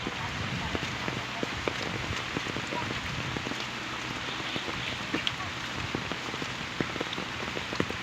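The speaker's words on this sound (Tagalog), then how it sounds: "Ay, grabe yung bagyo." Torrential typhoon downpour near the sea, a constant hiss of rain on surfaces punctuated by scattered sharp drips and taps, loud and unbroken.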